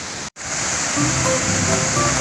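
A waterfall pours steadily in a dense, broadband roar, close and loud, broken only by a brief cut near the start.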